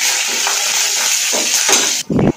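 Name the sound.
mustard seeds, cumin, chana and urad dal sizzling in hot oil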